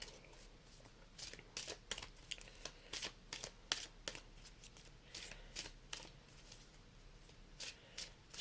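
Tarot cards are shuffled by hand in repeated quick riffling bursts, close and crisp, with short pauses between them and no talking.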